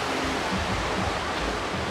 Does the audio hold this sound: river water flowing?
yes